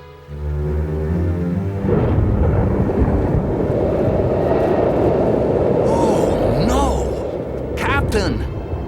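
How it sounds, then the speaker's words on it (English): A cartoon thunderstorm roars as a dense, continuous rumble of wind and rain over several seconds, with brief cries and exclamations breaking through near the end. "I've never seen a storm like that."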